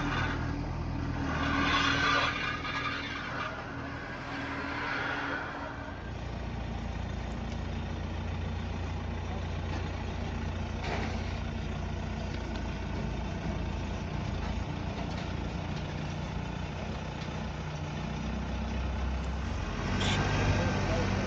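A Bobcat skid steer engine runs steadily outdoors at a shop damaged by fire, a continuous low rumble heard at moderate distance with people talking over it.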